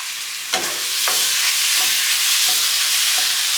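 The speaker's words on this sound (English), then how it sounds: "got some olive oil in my pan right here, guys, cooking off these shrimp" Shrimp frying in olive oil in a pan give a steady, close sizzle with a few soft stirring knocks and no voices.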